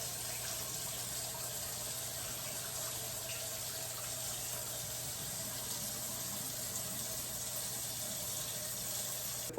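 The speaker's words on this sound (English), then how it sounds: "Just rinse them again with some cool water," Cool tap water runs steadily into a kitchen sink while food is rinsed, a faint, unbroken hiss and splash with no voices and no pauses.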